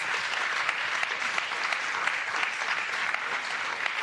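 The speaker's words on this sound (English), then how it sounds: "I would like you to applaud your representatives here" A conference audience applauds its panel representatives at the closing event of an urban exchange network, sustained crowded clapping with scattered sharper claps, steady and fairly near throughout.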